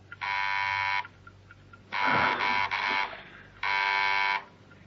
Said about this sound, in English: There was a sudden coded ring at the door.